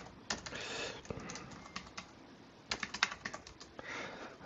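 Irregular clicks and clusters of key presses from someone typing on a computer keyboard, close and fairly quiet, with short bursts and brief pauses and no talking.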